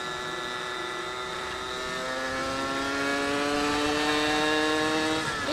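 A Suzuki Satria motorcycle engine revs up steadily through the gears, its whine climbing in pitch with a brief drop at each shift, loud and close with no talking.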